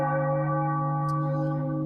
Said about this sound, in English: Give you a bell for that.